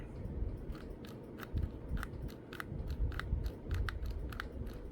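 Gritty, crunchy mechanical clicks repeat irregularly over a steady rushing background as a Smith & Wesson M&P 9C pistol trigger is slowly pulled through its take-up.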